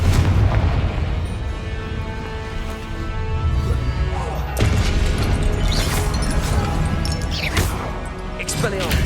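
Confringo blasting spell explosions in Hogwarts Legacy, heavy booming blasts and crashing impacts over a constant rumbling game soundtrack, with a voice shouting spell names over the noise.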